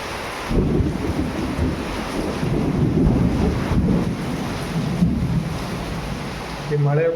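A heavy rainstorm with thunder rumbles and roars along an outdoor road, with gusty wind buffeting the microphone. A voice begins briefly at the very end.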